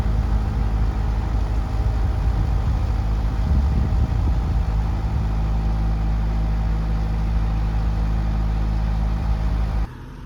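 A tractor engine runs loud and close at a home building site, a steady low rumbling idle that holds for about ten seconds before dropping off sharply at the end.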